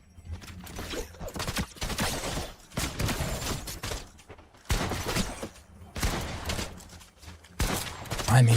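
Bursts of rapid gunfire in Fortnite Reload, repeated clattering volleys separated by brief pauses, loud and close, with a voice talking under the shots.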